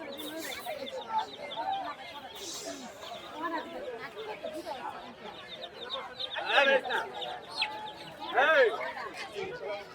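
Chickens and roosters cluck and squawk at a busy village poultry market, with overlapping calls rising in loud bursts over a steady hum of crowd chatter.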